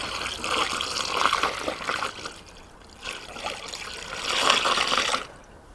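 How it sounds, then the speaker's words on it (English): Water pours and trickles steadily into a car radiator being refilled after a coolant leak, fading briefly twice before surging again, then stopping near the end. "I'm putting water in."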